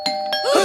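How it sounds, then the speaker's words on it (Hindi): A doorbell sounds indoors, a short bright electronic ding-dong chime with a ringing tail, close and alone without any voices. "कोई घंटी बजा रहा है और तुम दरवाजा नहीं खोल रहे हो?"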